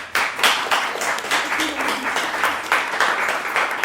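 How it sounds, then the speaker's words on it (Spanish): An audience at a talk with a visual arts doctorate holder from UNAM bursts into steady, even applause, many hands clapping at once in a sustained, moderately loud patter. "Pido por favor un fuerte aplauso para los dos."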